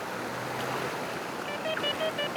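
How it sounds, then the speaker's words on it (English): A metal detector's overload signal sounds as short repeated electronic tones, rising faint through steady wash of salt-water surf on wet beach sand, with wind rumble underneath. "that's an overload signal which you'll get occasionally from the huge amount of salt water that's over the coil"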